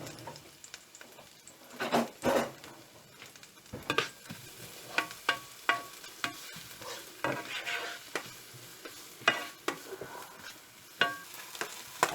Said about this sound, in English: Now I'll add garlic and the onion. Fry it in for about a couple of minutes